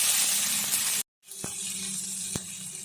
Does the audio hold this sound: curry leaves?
yes